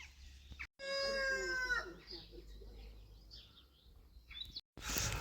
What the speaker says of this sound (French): Et t'as vu l'heure qu'il est, le coq?